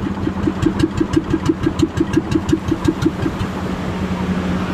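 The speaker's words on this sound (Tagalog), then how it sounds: "Tapos doon si Capricorn, pinandar niya rin yung makina niya" A large wooden boat's engine chugs steadily in a fast, even rhythm of low thumps, loud and close, holding a constant idle-like pace throughout with no talking.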